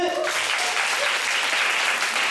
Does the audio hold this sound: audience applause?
yes